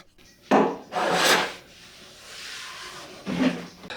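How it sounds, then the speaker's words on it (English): A hand block plane shaves wood in three rasping strokes, close and crisp, each a breathy scraping swipe separated by brief pauses. "It's not often I break out the block plane"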